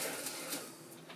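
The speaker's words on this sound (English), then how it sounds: "now we're just gonna cover each one with plastic wrap" Plastic wrap crinkles and rustles as it is pulled over oiled pizza dough balls (65 percent hydration) on a kitchen counter, a soft, continuous, close crackle lasting about a second.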